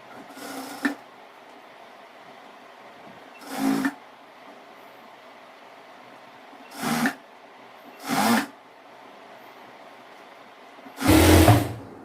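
Short bursts of a sewing machine stitching two pieces of cloth together for a chudidhar gathered pant, five separate runs of whirring separated by quiet pauses, the last run longest and loudest.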